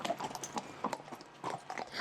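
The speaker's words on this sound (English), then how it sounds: "Obviously, horse riding isn't like learning how to ride a bike." A horse's hooves clip-clop in an uneven, brisk rhythm during a trail ride near Santiago, Chile, each footfall close and distinct.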